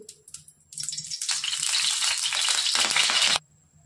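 Oil poured onto a hot griddle for bottle-gourd thalipeeth bursts into a loud, close sizzle that holds steady for about three seconds, then cuts off sharply.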